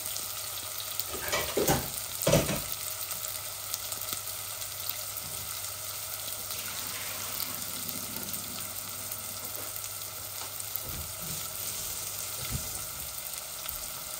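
Onions frying in a pan for a meat and potato bhuna, a steady low sizzle with a couple of louder stirring scrapes early on and a few softer knocks later, close and with no one talking.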